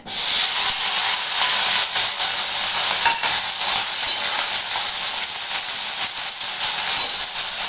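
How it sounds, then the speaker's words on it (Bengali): Onions tipped into a hot pan while cooking banana flower kofta curry, giving a loud, steady sizzle and hiss that fills the whole stretch with faint stirring scrapes, no voices. "এবার দিয়ে দেবো পেঁয়াজ"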